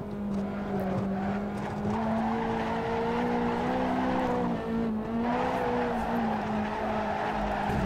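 A Ferrari 458 Italia in the Assetto Corsa racing game drifts on the Nordschleife, its engine droning steadily under long, wavering tire squeals that rise and fall throughout, with no talk.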